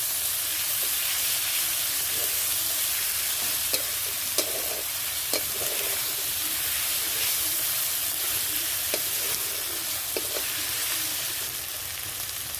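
A paste of ginger, garlic, chili and turmeric fries in a pan, sending up a constant loud sizzle and hiss, with occasional scrapes and knocks from stirring.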